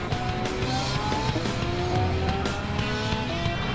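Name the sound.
Lamborghini Aventador race car exiting corner at Bathurst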